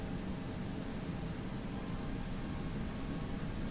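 Steady airplane engine roar during takeoff in the flight simulator X-Plane 12, a constant faint broadband drone with no distinct changes and no voices.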